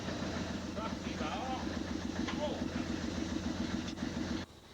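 The engines of the Massey Shaw fireboat run with a steady, throbbing low rumble close by, while voices talk over the noise before it cuts off abruptly near the end.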